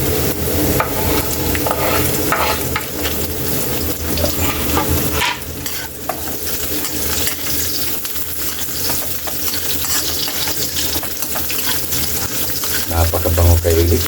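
Garlic and ginger sautéing in a pan for a Filipino scallop dish, a steady sizzle with scraping stirring throughout and a brief watery splash near the end.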